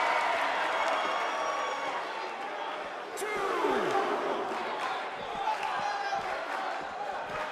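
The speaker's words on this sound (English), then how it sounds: "It certainly sounds like this Phoenix crowd is pumped up to be a part of this card here tonight." A large wrestling arena crowd in Phoenix roars and cheers steadily, with a rumbling wash of noise and occasional sharp thuds, under a commentator's voice.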